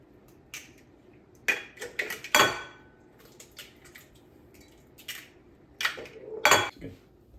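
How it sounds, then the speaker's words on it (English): Nine eggs cracked one after another into a single container for a smoked cast-iron breakfast casserole, giving sharp, close taps and cracks at irregular intervals with quieter shell and liquid sounds between them. "Gonna keep cracking all the eggs."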